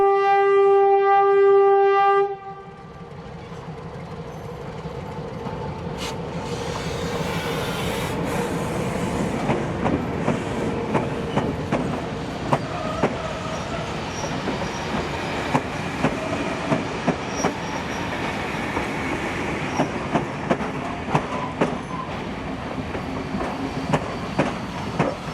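A steam locomotive hauls a train on the Thirlmere Loop line in New South Wales, rumbling steadily with rhythmic clicking of wheels over rail joints, preceded by a brief horn-like tone at the start.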